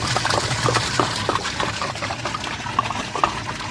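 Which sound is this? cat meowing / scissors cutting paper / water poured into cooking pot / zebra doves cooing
water poured into cooking pot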